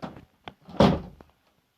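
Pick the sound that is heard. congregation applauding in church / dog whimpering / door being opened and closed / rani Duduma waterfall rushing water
door being opened and closed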